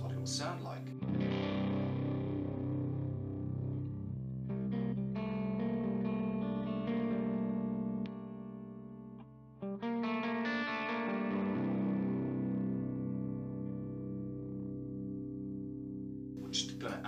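Electric guitar on the middle pickup, run through a fuzz pedal into a classic British amp and HX Stomp, playing sustained, slightly overdriven chords and ringing notes with effects shimmer, loud and steady for most of the passage.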